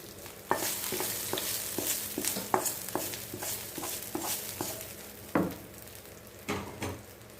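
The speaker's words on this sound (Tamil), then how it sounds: "இஞ்சி பச்சை மிளகாய் எல்லாம் சேர்த்து தாளிதம் பண்ணியாச்சு தாளித்ததில் இப்போ கொட்டிடுவோம்" Ginger and green chillies tempered in hot oil are tipped into a pot of varagu rice pongal, frying with a steady sizzle while repeated soft stirring scrapes and knocks punctuate it, close and fairly quiet.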